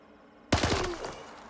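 A sudden burst of rapid gunfire in S.T.A.L.K.E.R., several sharp shots fired in quick succession, then a ringing, fading tail.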